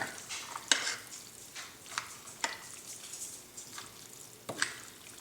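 Soft, wet stirring of fusilli pasta with cheese in a bowl, a gentle sticky squelch with several sharper scraping clicks at irregular intervals, close and quiet with no talking.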